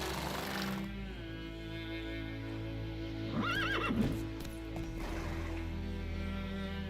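A horse in The Witcher 3 whinnies once in a rising, wavering call midway, over a steady low hum and droning background, with no clear hoofbeats.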